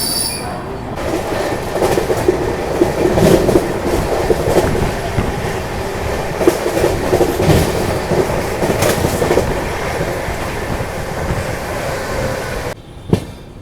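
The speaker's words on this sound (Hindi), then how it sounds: "लगभग 8-10 मिनट रुकने के बाद अब ट्रेन निकल रही है मथुरा से अपनी।" A passenger train pulls out of Mathura station, heard from on board: a loud, steady rumble of rolling wagons with rail clatter and brief high wheel squeals, continuous throughout and ending with a sharp knock.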